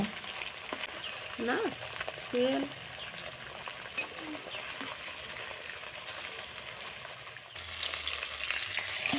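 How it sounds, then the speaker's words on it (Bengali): Tengra fish sizzles steadily in a pan, a soft crackling hiss that grows louder toward the end, with a few brief tonal sounds over it. "মাছগুলো উল্টে পাল্টে ভালো করে"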